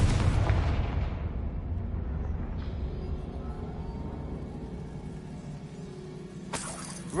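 A booming Confringo fire-blast spell explosion in Hogwarts Legacy opens loud and low, then rumbles and fades into a long decaying roar, with a sharp crackle near the end.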